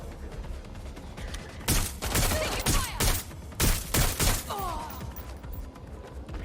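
Electric-bullet gunfire in the video game Watch Dogs Legion comes as loud, rapid bursts of shots clustered in the middle, with quieter game ambience before and after.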